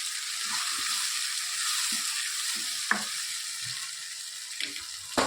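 Spinach being tempered in a hot pan for a Gujarati home meal, giving a steady close frying hiss with a few brief clinks and stirring scrapes, no voices.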